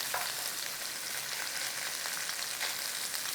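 Sliced Vienna sausage and potatoes frying in butter and oil, with a steady close sizzle and faint scraping as the pan is stirred.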